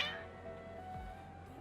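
Cats meow in an Archon Quest of a fantasy video game, a short high cry opening the moment before a steady low game hum with faint tones.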